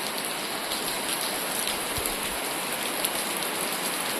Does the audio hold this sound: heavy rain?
yes